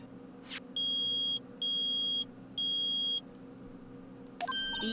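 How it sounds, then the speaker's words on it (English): Metal detector beeping in the Phoenix Wright Ace Attorney game: three loud, steady electronic tones in a row, each lasting about half a second, over a low background hum, with a short chime near the end. "It's beeping! The metal detector's found something."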